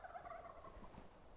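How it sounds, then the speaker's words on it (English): A wild turkey gobbles in a quick rattling burst, fairly faint and distant, out in the open during a spring public-land bowhunt. "That bird is still gobbling over there."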